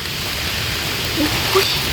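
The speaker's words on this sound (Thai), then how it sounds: "ฝนมาหนามากวนเลย" Heavy rain falling steadily in a forest while out hunting mushrooms, a dense, continuous hiss that stays loud and even throughout, with no pauses.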